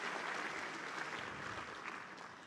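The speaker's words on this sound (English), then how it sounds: "please let's give him another round of applause" An audience at an agricultural research conference on African food systems applauds, a dense, even wash of clapping that holds steady for a couple of seconds and then begins to thin slightly.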